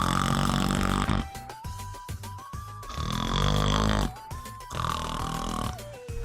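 Cartoonish snoring in the Mario Party Superstars minigame Sneak and Snore comes as repeated loud, rhythmic snore cycles with rising whistle tones, set over bouncy game music.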